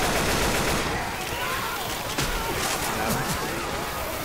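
Constant rapid gunfire from shooting zombies in Left 4 Dead 2, a dense unbroken fusillade of close, loud shots with a voice talking over it.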